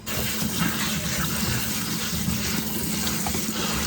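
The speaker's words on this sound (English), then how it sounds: "Yeah, let's rinse these off." Running tap water pours steadily over cut sweet potato pieces as they are rinsed, a continuous, even rush close to the microphone with no talking.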